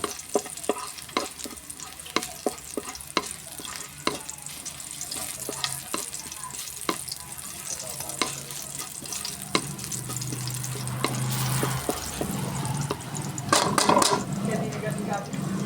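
Miso toasting in a hot pan, a soft continuous sizzle with repeated stirring scrapes and knocks, growing busier and louder near the end.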